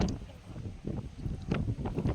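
Blustery wind buffeting the microphone outdoors on the Atlantic shore at Jacksonville Beach, Florida, a continuous low rumble with gusty swells and no voices.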